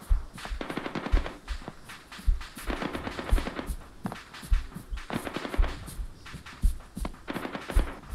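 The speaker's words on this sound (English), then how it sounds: "I hear a mortar firing right now" Mortar fire and small-arms-like reports sound from a combat zone in Grenada. Sharp, irregular bursts of repeated bangs come from the middle distance, with short pauses between volleys and no talk.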